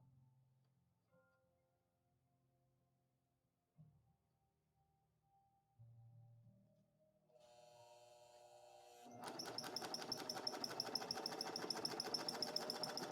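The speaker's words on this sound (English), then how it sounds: "you can't turn a serger" A serger stitching neon ripstop nylon for saddlebags starts up after quiet handling noises, then runs loud and steady with a fast mechanical chatter through the final few seconds.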